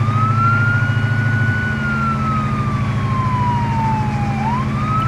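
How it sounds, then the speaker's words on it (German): A vehicle siren from the video game ARMA 3 wails steadily and loud, one slow rising and falling tone over a constant engine drone, with no talk. "Muss ich die ganze Zeit Sirene anmachen?"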